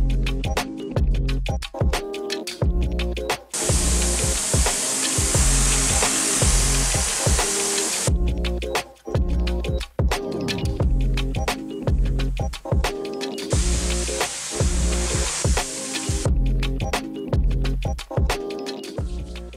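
A pressure washing machine runs while washing the outside of a large house, a continuous loud spraying hiss that surges and drops back in long bursts, with no talking.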